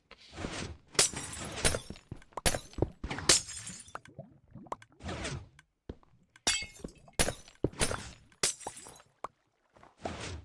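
Glass blocks shattering in Minecraft, a series of bright, crisp breaking crashes with clinks, repeated about a dozen times in uneven bursts, close and fairly loud with no talking.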